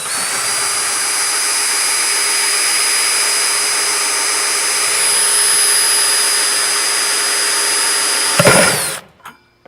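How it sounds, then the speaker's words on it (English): A 1 1/8 inch hole saw bores through plastic for a self-watering planter, a loud steady whining drill with a high tonal ring that runs unbroken for about eight seconds, then clatters briefly and cuts off. "Now I'm gonna take the 1 1/8 inch hole saw. I'm gonna stick it in the pre-drilled hole."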